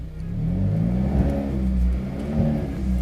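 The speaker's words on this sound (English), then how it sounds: "here's the exhaust sound. Listen to this baby purr." A car's exhaust note while the engine revs, a steady deep rumble that swells and eases over a few seconds, close and fairly loud with no talk over it.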